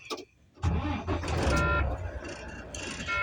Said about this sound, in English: Then you can go ahead and start your truck.